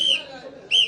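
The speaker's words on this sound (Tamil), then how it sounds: "நான் பேச மாட்டேன், என் விசில் தான் பேசுறேன்." Two short bursts of a high, shrill human whistle, a steady tone that fades in the middle and returns, with low murmuring voices underneath.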